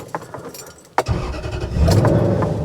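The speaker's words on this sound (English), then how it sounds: "That's a really strong crank." A 2005 Toyota Tundra engine cranks with a click and a strong whirring turnover, then catches and rises into a loud running roar, heard up close.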